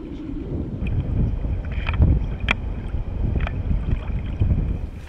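Small fishing boat cruising across open lagoon water, a steady low rumble with wind buffeting the microphone and occasional splashes and knocks, no talking.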